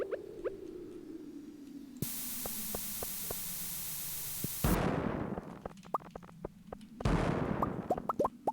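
Cherry bomb blasts in Stardew Valley, a burst of hissing static-like noise followed by two loud noisy explosions with scattered crackling pops, no talk.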